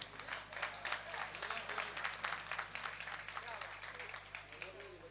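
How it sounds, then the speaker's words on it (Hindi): Audience applause at a mushaira poetry recital in Chhatarpur, a distant, fairly faint stretch of clapping with a rhythmic pulse over a low steady hum, lasting about five seconds. "एक बार जोरदार तालियां खूबसूरत निजामत के लिए।"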